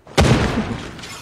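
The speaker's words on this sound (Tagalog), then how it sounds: "Ayun, ang tunog yan. Nakakatakot naman yung tunog ng baril." A gunshot in a mobile shooter game: one sharp, loud boom with a short, rumbling decay, heard alone.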